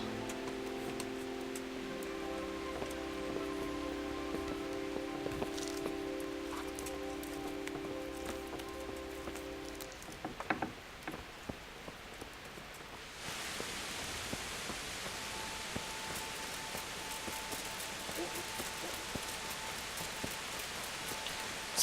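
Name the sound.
rain falling in video game Kingdom Come: Deliverance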